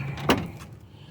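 A single short clunk of a door being worked on a 1999 Ford E350 XLT extended 15-passenger van, heard close and fairly quiet, followed by a faint tail of rattle and then near silence.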